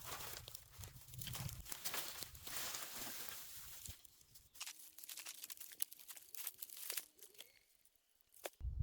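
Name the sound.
old branches cut and pressed into stream bank soil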